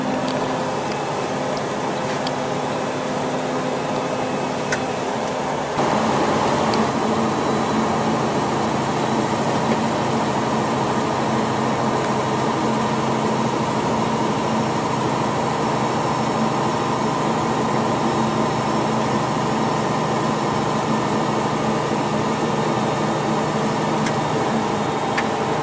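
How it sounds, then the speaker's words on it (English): Truck engine Jake brake while driving downhill, a steady loud droning engine roar with a low rumbling tone that shifts and thickens partway through, continuous throughout. "we're going downhill using nothing but the Jake brake"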